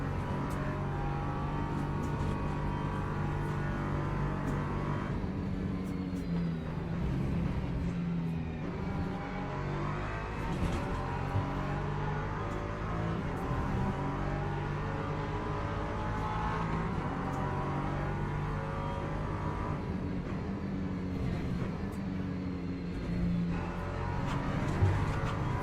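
A Porsche race car engine drones steadily in a racing video game, a continuous mid-distance hum with shifting tones of other cars around it, and no speech.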